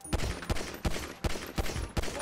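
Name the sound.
pistol gunshots in video game GTA 5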